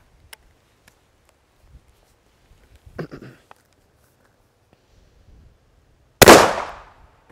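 A Zastava M59 rifle fires once into a cabbage outdoors: a single loud, sharp report that decays quickly, following several seconds of near-quiet broken only by faint clicks and a brief handling rattle.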